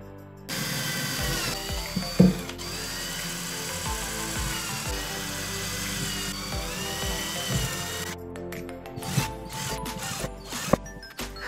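A power drill bores holes spaced 5 cm apart for a homemade sprinkler, with a loud steady whine for several seconds followed by shorter bursts, close up.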